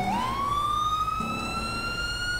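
Emergency vehicle siren with lights on in a GTA roleplay video game, a loud steady wail rising and holding, close and continuous with engine rumble beneath.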